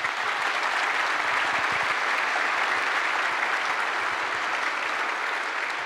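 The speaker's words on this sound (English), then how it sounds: "I think we should give them a round of applause." Sustained audience applause at a community masterclass event, a dense, even wash of many hands clapping at steady loudness throughout, with no voices standing out.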